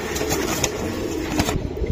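A female Giribaz racing pigeon with stone-colored eyes gives soft, close cooing under a steady background hum.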